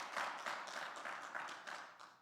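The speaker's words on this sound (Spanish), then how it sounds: "dale un aplauso de verdad al Señor si lo va a hacer" A church congregation applauding together, steady and fairly soft, sustained clapping with a faint rhythmic pulse and no talk over it.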